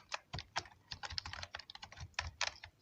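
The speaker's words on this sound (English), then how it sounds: "Let's try to add some text to it. So let's say let's just write KINEMASTER" Quick, rhythmic keystrokes on a keyboard, a close, steady patter of soft clicks with no talking.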